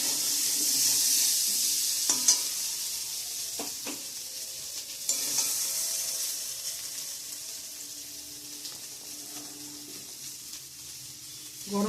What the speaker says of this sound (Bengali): এখন জল অ্যাড করে দিয়ে দেবো।